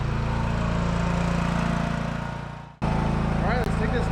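A John Deere LA110 lawn tractor engine, recently fitted with a new carburetor, runs steadily with a dense low drone, dips abruptly for a moment, then picks straight back up to a constant close hum.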